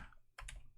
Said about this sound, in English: Sorry, I'm typing in Discord right now.